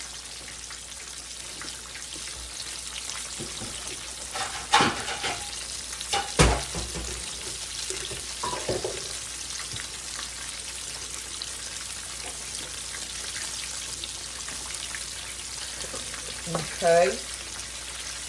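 Pork tenderloin frying in a good amount of grease on a hot new stove, a steady crackling sizzle running throughout at moderate level, with a brief spoken word and a few clinks partway through.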